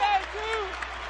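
Basketball arena crowd at a Siena versus Iona men's college game cheers and applauds steadily, a broad wash of noise with a voice rising over it.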